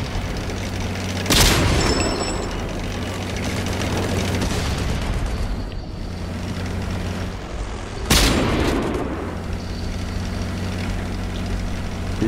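Two loud, booming tank cannon shots in World of Tanks, about seven seconds apart, each a sharp broadband blast over a constant low engine rumble and battle noise.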